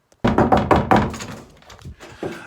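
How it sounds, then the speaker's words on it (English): Several dull, heavy thuds land in quick succession, close and loud, like knuckles rapping on a door, then fade into quieter shuffling. "I hear a knock at the door."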